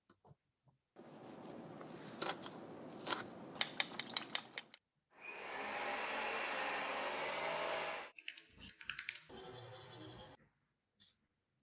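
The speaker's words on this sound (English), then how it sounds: "chopping vegetables, sort of mixing in a bowl, a vacuum cleaner, someone typing, and someone brushing their teeth." A sequence of household sounds: rhythmic chopping of vegetables and clinking of mixing in a bowl, a loud steady vacuum cleaner roar, then clattering keystrokes of typing and a brief toothbrushing scrub.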